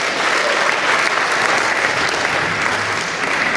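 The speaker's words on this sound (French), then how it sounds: "Encore une fois, les applaudissements nourris pour M." Dense, steady applause from a congress audience for the mayor of Yoko, loud and unbroken from start to finish with no voices above it.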